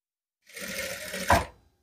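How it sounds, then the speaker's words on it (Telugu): A sewing machine runs a single steady stitching burst of about a second, sewing thread piping cut from a leftover saree border onto the round neck of a blouse, close and clear with no talking. "ఇదే కుట్టు పైన మళ్ళీ కుట్టు వచ్చేలాగా ఈ రౌండ్ షేప్ మొత్తాన్ని కూడా ఈ పీస్ని పెట్టేసుకొని కుట్టు వేసేసుకుందాం"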